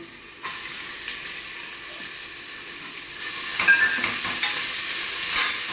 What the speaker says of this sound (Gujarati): સાથે ઝીણી સમારેલી ડુંગળી છે, 1 મીડિયમ સાઇઝની લીધેલી છે, તે પણ આપણે અંદર નાખીને સાંતળી લઈએ